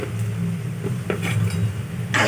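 Turmeric is stirred into a cooking pan with a few close metallic scrapes and clinks of a utensil against the pan over a steady background hum, no talking.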